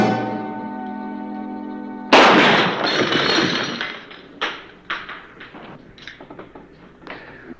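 In a deserted western frontier town, a sudden loud gunshot cracks after a sustained tonal chord, followed by a decaying echo and several lighter sharp impacts spaced irregularly.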